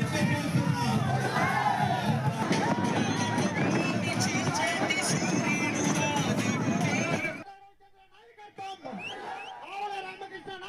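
A dense crowd of villagers at an election campaign rally in Thummalapenta cheers and shouts loudly and continuously, then the din cuts away abruptly to quieter, scattered sounds near the end.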